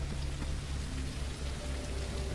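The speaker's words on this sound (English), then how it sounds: "and it's raining" Steady, dense rain hisses and patters without pause throughout, a constant wash of falling water in a zombie survival video game, with no voices over it.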